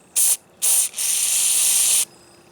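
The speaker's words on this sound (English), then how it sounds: "come around the back side of that with some spray. This carburetor spray here I got in my hand" Close, loud hissing bursts of carburetor cleaner spray while cleaning a string trimmer carburetor: two short squirts, then one longer continuous blast of about a second.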